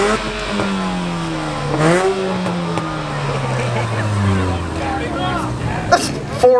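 Muscle car, truck or JDM car at an exhaust competition revs its engine, a deep rising and falling exhaust drone building over several seconds, loud and close, with crowd chatter and voices around it.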